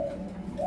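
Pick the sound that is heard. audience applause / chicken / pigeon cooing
pigeon cooing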